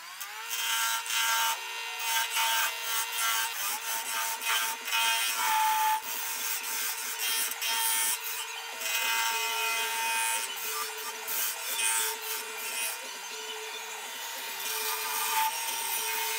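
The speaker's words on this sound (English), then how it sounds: "We're going to turn a tennon on this end." Wood being turned into a tenon on a lathe for a mushroom-style nutcracker, a steady scraping, rubbing cut with a continuous whine running close and fairly loud throughout, no talking.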